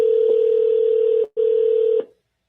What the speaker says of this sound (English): We're going to have to do a redial.